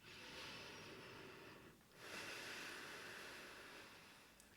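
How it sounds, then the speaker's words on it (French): Slow, deep yoga breaths come close and quiet: a long airy exhale, a short pause, then another drawn-out breath, soft and unhurried against a hushed background. "On prend 3 respirations ici"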